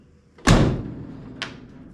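A car door on a 1947 Plymouth P15 Special Deluxe closes with one solid, close slam followed by a lighter latching click about a second later.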